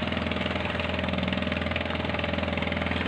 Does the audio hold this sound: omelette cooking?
no